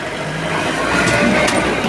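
A loaded goods carrier truck's engine runs as the vehicle creeps forward. It gives a steady, fairly loud broadband rumble that holds for the whole stretch with no pauses and no talking.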